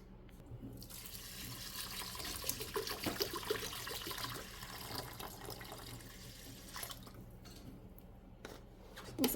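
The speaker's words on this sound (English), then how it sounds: "I'm just going to put some water in here" Water from a 16.9 ounce bottle pours into a bowl in a home kitchen, a steady trickling splash that swells in the middle and tapers off, fairly quiet and close.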